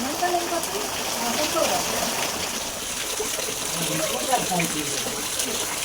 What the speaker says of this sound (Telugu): వాన కొంచెం తగ్గితే ఆడికి వెళ్ళి చూపిద్దాం అంటుంటే అసలు తగ్గట్లేదు వాన